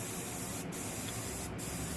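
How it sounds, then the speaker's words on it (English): An airbrush sprays thin coats of Alclad metallic paint onto a replica Rolls-Royce jet engine part, giving a steady close hiss that dips briefly twice. "And as you spray this,"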